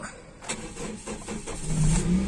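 A used 2013 car engine cranks briefly and catches, then settles into a steady idle that swells slightly louder toward the end.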